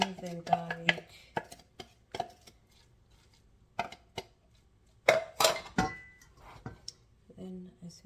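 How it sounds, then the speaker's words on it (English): Knife chopping onions finely on a cutting board, a run of sharp uneven taps with a louder burst of close chops partway through, and a voice speaking faintly at times. "Onions, finely chopped."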